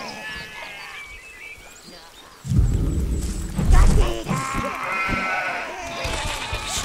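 Sheep bleat in the video game Overlord, several wavering cries over game sounds and thuds, with a voice talking partway through.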